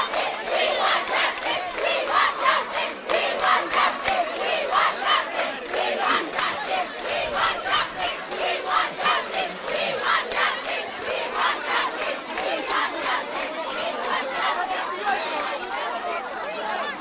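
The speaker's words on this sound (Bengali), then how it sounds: "তারা নানা ধরনের স্লোগান দিচ্ছেন" Protesting students, teachers and parents of Rajuk school chant slogans outdoors in the rain, a steady rhythmic crowd chorus of repeated shouted phrases, loud and continuous throughout.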